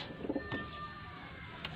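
Pigeons at a breeder's loft in Faisalabad give a few soft low coos close by over a faint steady background hum.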